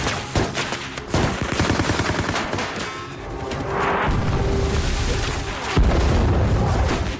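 A firefight from a war film between soldiers at a bridge, with sharp bursts of gunfire, rattling volleys and heavy booms, loud and dense throughout with a distinct blast near the end.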